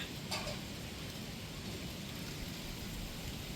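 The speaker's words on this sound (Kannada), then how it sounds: "ಮಳೆ ಬರ್ತಿದೆ ಅಲ್ವಾ" Steady rain falling outdoors around a home garden where flower plants are being planted, a soft continuous hiss of drops with no voices.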